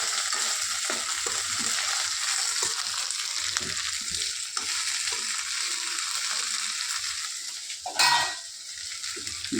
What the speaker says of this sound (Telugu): బెండకాయ బాగా వేగుతూ ఉంది ఆయిల్లోనే